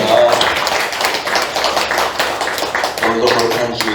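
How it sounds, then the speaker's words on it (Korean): A church congregation applauds during a Korean Sunday worship service, a loud, dense burst of many hands clapping steadily close by, with voices mixed into the clapping throughout. "우리 하나님께 감사의 박수 드립니다"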